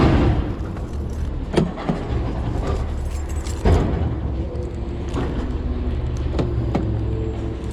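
Car keys jangle and clink near a 2004 Honda Pilot whose battery is dead, scattered metallic jingles over a low outdoor rumble of road traffic, close with no talking.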